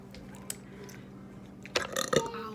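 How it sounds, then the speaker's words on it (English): A person eating potatoes, eggs and corn gives a burp in short broken bursts near the end, loud and close, after a quiet start with faint background hum. "That was messed up burp, but it's still burping."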